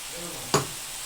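Dal drops into hot oil in a pan with ground coriander and cumin, setting off a sudden loud sizzle that flares up sharply and then settles into a steady frying hiss.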